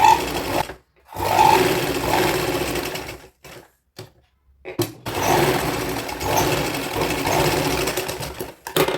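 An electric sewing machine stitches around the edges of a strip for a young girl's frock with a loud, steady motor whir and rapid needle chatter, broken by brief pauses and restarts, close up with no speech.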